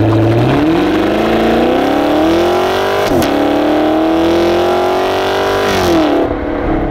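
A 2017 Chevrolet Camaro SS V8 revs hard and close. Its loud, rising engine note climbs steadily and then eases off near the end, with no talk.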